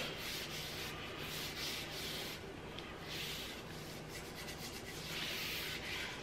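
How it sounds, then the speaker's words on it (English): A cloth wipes boiled linseed oil off a wooden Helko axe handle, giving a soft, steady rubbing and scuffing that runs close and continuous throughout, with no talking. "I'm just going to kind of lightly wipe it off."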